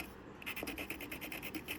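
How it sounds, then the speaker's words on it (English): Rapid rhythmic rasping strokes of a nail file sanding a small dollhouse miniature, a steady back-and-forth filing scrape close by, repeating about a dozen times in quick succession. "I'm gonna sand that down. I'm just using a nail file."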